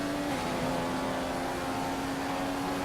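A race car's engine drones at high revs in a racing video game at the Bahrain circuit, a loud continuous steady whine filling the whole stretch with no talk.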